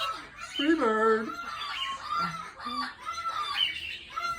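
A pet hen clucks and makes drawn-out, rising calls up close in a short, varied series, while people chat softly around her.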